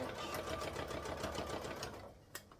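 A home sewing machine stitches fabric for a beginner purse, a fast steady mechanical chatter that runs close and continuous, then stops with a small click near the end.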